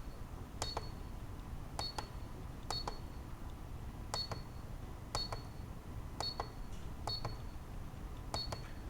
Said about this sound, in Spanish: Cada pitido es un nuevo punto máximo o mínimo.